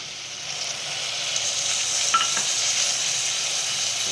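Soaked masoor lentils tipped into a pan with a little oil and stirred for khichdi, giving a continuous close sizzle that rises slightly, with a brief scrape partway through.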